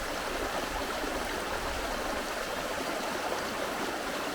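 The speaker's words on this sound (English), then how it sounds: "quite fast running water today. We've had a lot of rain." Fast-flowing stream water at a ford after heavy rain, rushing steadily with a dense, broadband hiss and gurgle, close and loud, with no voices.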